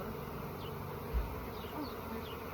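Honey bees buzz around an open beehive during a hive inspection, a faint, steady hum that carries through the whole stretch with no talking.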